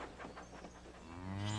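Cows mooing on a farm in a Thomas & Friends cartoon, several loud drawn-out moos overlapping one after another, with a long low call building toward the end and no talking.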